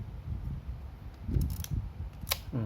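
Canon Canonet QL17 film camera being handled, its shutter cocked and aperture ring adjusted, giving a few small mechanical clicks and ratchets over a low background rumble, close and fairly quiet.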